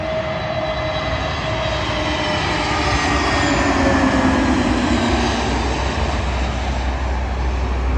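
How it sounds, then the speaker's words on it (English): A Eurowings Airbus A320neo jet arrives at London Heathrow before dawn, its engine roar steady and loud throughout, with a broad rushing wash and faint whining tones sliding slowly downward as it passes close by. "Arriving in now is a Eurowings Airbus A320neo."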